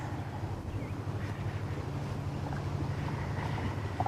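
Wind buffets a boat on a lake during fishing, a steady rushing roar with low rumble and lapping water, continuous and fairly loud, no voices.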